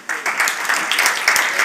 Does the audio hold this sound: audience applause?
yes